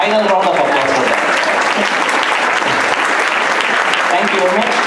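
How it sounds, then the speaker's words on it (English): Sustained audience applause at an arangetram classical dance recital, dense and loud throughout with voices mixed in under the clapping. "One final round of applause for them"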